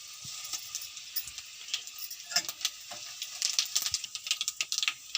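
Cumin and mustard seeds sizzle in hot oil with fried garlic, a bright steady hiss that builds into a rapid burst of close crackling pops toward the end.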